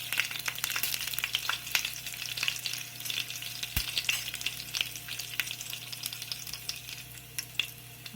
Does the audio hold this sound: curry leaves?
yes